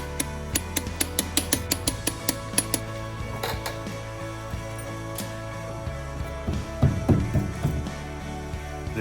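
Front wheel lug nuts are tightened on a Chevrolet Colorado ZR2, with a quick series of sharp, close metallic ratchet clicks at the start that fade into low background hum.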